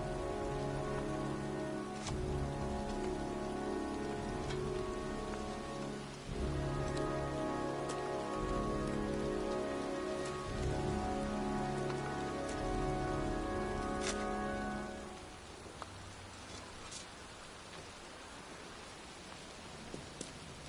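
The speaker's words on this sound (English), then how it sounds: "standing in a cemetery in pouring rain" Heavy rain pours steadily in a cemetery in the video game Heavy Rain, a dense hiss running throughout beneath a sustained low musical drone that drops out near the end, leaving the rain alone.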